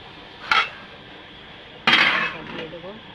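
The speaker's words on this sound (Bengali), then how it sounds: "তরকারিটা একটু ঢাকনা তুলে নেড়ে দেব।" A metal lid is lifted off a pot of maya fish curry with onions, giving two sharp clanks, followed by scraping and clattering as the curry is stirred, close by with no talk.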